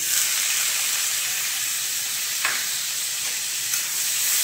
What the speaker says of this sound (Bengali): তেল আমাদের গরম হয়ে গিয়েছে কড়াতে। এবার দিয়ে দিলাম কুচনো পেঁয়াজ।